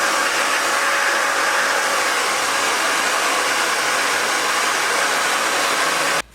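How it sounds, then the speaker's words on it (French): A hair dryer blows steadily at close range with a constant loud whoosh, then cuts off abruptly at the end. "je vais passer quand même le sèche-cheveux pendant 1 minute"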